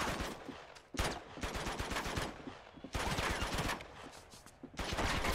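Rapid bursts of automatic gunfire rattle through a firefight in Uncharted 2, several dense volleys separated by short pauses, loud and close with sharp crackling shots.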